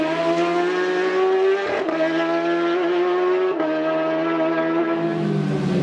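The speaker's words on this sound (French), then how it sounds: "Plein gaz motard." Racing motorcycle at full throttle near Quarter Bridge, a sharp corner on a road course: a steady, loud, high-pitched engine wail held throughout with brief dips at gear changes, close and continuous.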